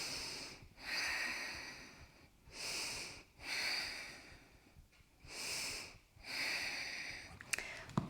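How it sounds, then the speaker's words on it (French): Slow, deep breaths during a yoga side stretch with a brick under one hand, about five long airy inhales and exhales in a steady rhythm, close and soft, with a faint click near the end. "3 respirations profondes ici"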